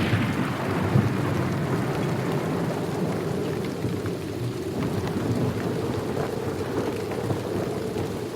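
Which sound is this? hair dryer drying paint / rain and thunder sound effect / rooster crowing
rain and thunder sound effect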